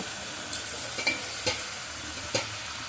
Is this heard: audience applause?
no